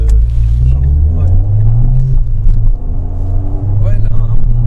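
A stage 3 tuned Ford Fiesta ST accelerates, its engine note rising in a loud, steady low drone heard from inside the car, with a person talking over it.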